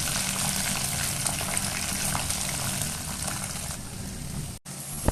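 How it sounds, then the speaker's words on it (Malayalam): Jackfruit pieces fry in hot oil for crispy Kerala-style chips, giving a loud, steady bubbling sizzle throughout that cuts out abruptly for an instant near the end. "എണ്ണ നന്നായിട്ട് ചൂടായി വരുമ്പോൾ നമ്മൾ ഇതുപോലെ കുറച്ചായിട്ട് പകുതി വേവിലൊന്ന് വേവിച്ചെടുക്കണം"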